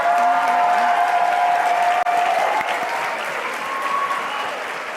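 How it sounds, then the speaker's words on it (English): A crowd at a Tragedy Assistance Program for Survivors grief camp event gives a big round of applause for the mentors, dense, sustained clapping that fills the space and eases slightly toward the end. "I'd like to give a big round of applause to our legacy mentors who are here this weekend."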